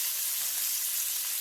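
Trout fries in a pan, a steady, close, even sizzle of hot fat hissing without pause and no one speaking.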